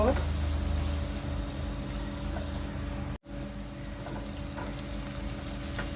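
Sliced onions, lightly salted, fry in a pan while being stirred toward light brown, giving a steady, close sizzle and hiss with a brief break midway and a voice talking over it.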